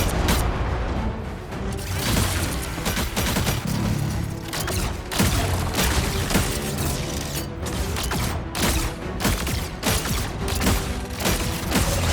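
Rockets and pulse-charge weapons fire in Marvel Rivals as a dense, continuous barrage of booming, crackling bursts and mechanical clanks, loud and close with no pauses.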